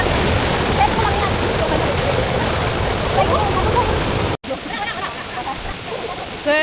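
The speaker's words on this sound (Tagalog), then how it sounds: "First waterfall." A waterfall along a Hong Kong stream roars as a loud, continuous broadband rush close by, briefly cut near the end, with faint voices under it.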